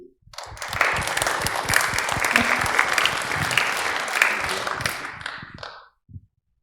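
A lecture audience breaks into warm applause welcoming a speaker to a beekeeping talk, dense clapping rising quickly, holding steady for about five seconds, then fading, with a last few claps trailing off.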